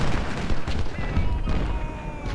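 Musket volleys from Ultimate General: Civil War rumble as a dense, distant crackle of massed fire, with a voice speaking over the battle noise.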